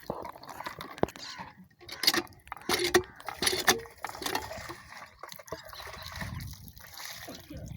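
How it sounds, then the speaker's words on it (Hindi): Water from a hand pump pours and splashes into a container outdoors, with rhythmic clanks of the pump handle and metallic knocks, while people talk nearby. "चाचू पानी भर रहा है जी"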